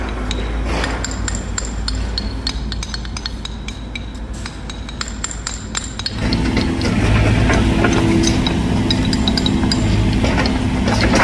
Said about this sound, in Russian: Каждый камешек, каждую усеченную пирамиду переворачивают и вручную забивают в подготовленную подушку.